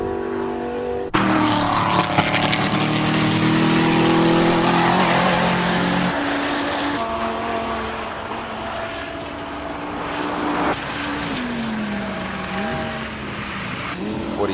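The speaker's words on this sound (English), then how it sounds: "Ricky Giannaccaro driving the R8 as opposed to usually driving his Lamborghini" An Audi R8 racing up the Simola hillclimb course, its engine roaring loud and close at high revs with rising and falling gear changes, then fading as it pulls away.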